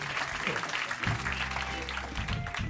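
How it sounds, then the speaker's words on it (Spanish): Studio audience applause welcoming a guest onto a comedy talk show, a steady wash of clapping throughout the short span with low voices and music-like tones mixed underneath. "Vamos a recibir con un fuerte aplauso a nuestro"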